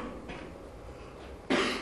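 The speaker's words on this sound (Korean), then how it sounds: "기침 소리가 들어가지고" A single short cough bursts out near the end, close and fairly loud, during a promotional interview recording for the 2012 film Pieta. A low, murmuring background comes before it.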